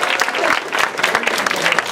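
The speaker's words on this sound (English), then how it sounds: "can everybody just give like a round of applause for" Audience applause at a live youth theater performance of Seussical, a dense, steady clapping from a crowd lasting about two seconds with no talk over it.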